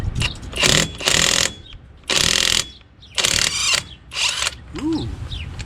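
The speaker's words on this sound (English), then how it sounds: "half-inch impact that I got from a review, seems to work pretty good. Like better torque than the DeWalt" A half-inch impact wrench with a 3/4 socket hammers on a seized rear drum brake of an EZGO 1200 Workhorse utility golf cart, firing in four loud bursts of rapid rattling hits separated by short pauses.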